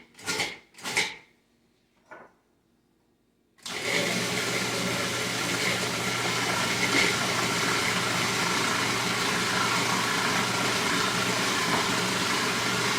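A food processor pulses a seafood terrine mixture with cream: two short bursts of whirring, a brief blip, then the motor runs steadily as a loud, continuous churning roar, up close with no talking.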